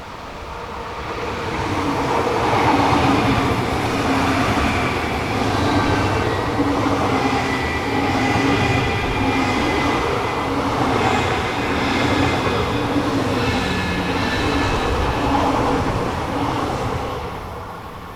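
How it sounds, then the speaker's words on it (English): An intercity train on the Munich to Hamburg line, hauled by locomotive 9010, passes close by with a loud rushing roar. It swells quickly, stays strong with rhythmic wheel clatter throughout, then fades away at the end. "intercity services also use this line, including this one operated by 9010, the 1119 Munich to Hamburg"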